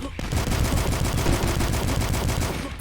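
Rapid gunfire in the video game Dusk, a fast continuous burst of repeated shots at steady loudness with no talking.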